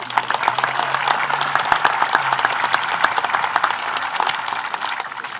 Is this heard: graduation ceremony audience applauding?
yes